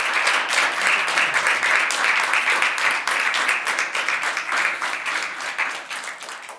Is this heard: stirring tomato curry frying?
no